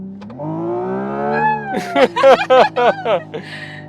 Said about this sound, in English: when you really pin it down, it unleashes like one more step of this sound emulation